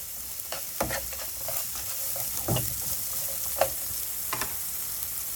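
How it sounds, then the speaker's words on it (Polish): Onion gently frying in leftover pork loin fat in a pan: a steady close hiss of sizzling with a handful of sharp scraping stirs scattered through it, no voices present. "Cebula się podsmaża"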